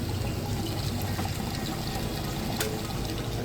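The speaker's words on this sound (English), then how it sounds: "Now I'm not going to lift this lid up while it's draining the water out." An Amana top-load washing machine drains water during its neutral drain cycle with the lid closed, giving a steady pouring, gushing rush under a low mechanical hum that holds constant and continuous throughout, with no talk.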